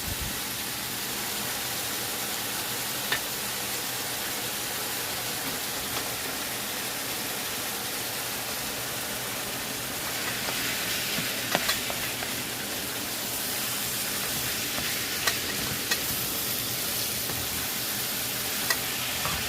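Onions sizzle and hiss in a hot pan for a soul-food red beans and rice dish, a steady broad frying noise with a few stirring clicks, louder about halfway through.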